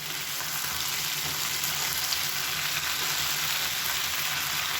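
Brinjal slices coated in masala sizzle steadily in a hot oiled pan while being turned, a close, even, bright frying hiss that holds without pause.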